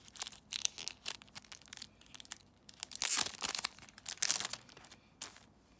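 Foil or paper merchandise card packs, A.C.E Japan Valentine's items, being torn open and crinkled by hand, a close, busy run of ripping and crumpling bursts with short pauses between.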